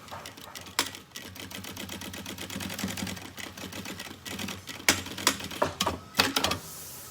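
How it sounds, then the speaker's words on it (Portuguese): A sewing machine stitches a backpack lining in quick, rhythmic mechanical bursts of needle clatter, close and clear, pausing briefly and then starting again in short runs. "juntamos então o fundo do nosso forro com o fole do nosso forro. Alinhamos na lateral e fazemos então uma costura pé de máquina"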